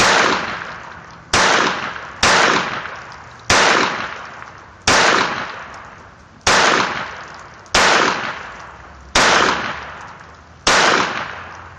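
Walther P22 pistol firing single shots at a slow, steady pace, nine sharp, loud reports spaced about a second and a half apart, each ringing out briefly before the next.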